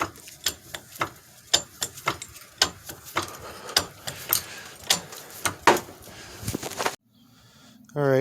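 A ratchet clicks in quick, steady strokes as lug nuts are loosened to take the wheel off a 2006 Honda CR-V, close and crisp, with the sound stopping abruptly near the end.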